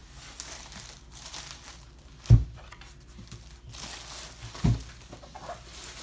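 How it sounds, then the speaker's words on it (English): Plastic wrapping peeled off a boxed set of cloth-bound books, soft crinkling throughout with two louder crunching tears a couple of seconds apart. "I'm removing the plastic."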